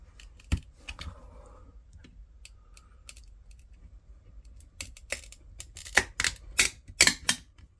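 A plastic PSA card slab is worked and pried apart by hand, giving scattered small clicks and taps that build into a cluster of sharp, loud cracks and snaps near the end, close up with no talk.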